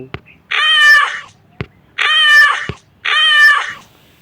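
Three drawn-out cat meows, evenly spaced and fairly loud, each with a sharp click just before it.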